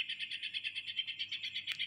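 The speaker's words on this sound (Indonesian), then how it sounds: "Masteran cucak hijau full tembakan kasar." A green leafbird sings a rapid, steady series of repeated chirping notes, clear and close, with no other sounds around it.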